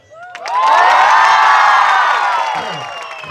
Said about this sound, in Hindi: एक बार सिर्फ महिलाएं ताली बजाकर चिल्लाकर